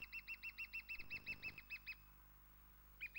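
A lesser spotted woodpecker gives a shrill, feeble spring call, a rapid run of about eleven evenly spaced high piping notes that then breaks off, with one more note starting near the end over quiet background hum.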